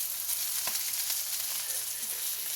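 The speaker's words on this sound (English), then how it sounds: "Look here, she's frying some fish." Fish frying in a pan gives a steady, close sizzle throughout, a continuous hiss of hot oil with no talking.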